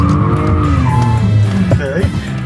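Car tires skid and squeal loudly after the clutch is popped, a continuous screeching that rises and wavers over a revving engine for a couple of seconds.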